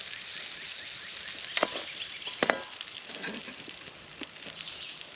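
Cheese heats on a skillet over a campfire breakfast setup, giving a soft, continuous sizzle and crackle at close range, broken by a couple of sharper pops and small clicks.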